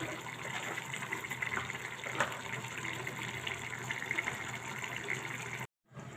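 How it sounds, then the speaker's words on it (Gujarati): Water pours steadily over vegetables cooking in a pan for turiya sabzi, a continuous gushing splash that holds for almost six seconds before cutting off abruptly. "તો આપણે ઉપર પાણી નાખી લીધું છે."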